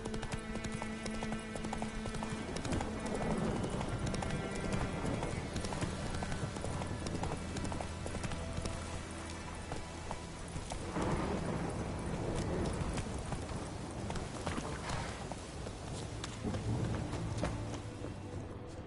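Hooves of the horse Roach galloping in The Witcher 3, a rapid, continuous clip-clop rhythm running throughout at steady volume.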